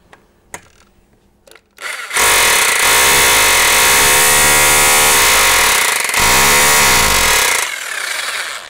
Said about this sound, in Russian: Берем перфоратор.